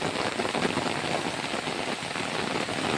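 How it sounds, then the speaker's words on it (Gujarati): Heavy rain falls steadily over a small farm plot with a dragon fruit plant, a dense, loud, continuous hiss of drops with no pauses and no voices. "હમણાં જબરદસ્ત વરસાદ શરૂ થઈ ગયો છે"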